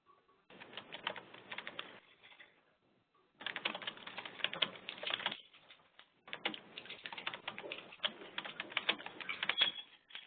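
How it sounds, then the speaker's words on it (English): Quick keyboard typing comes in three bursts separated by short pauses, close and fairly quiet, with no talking. "I heard someone typing"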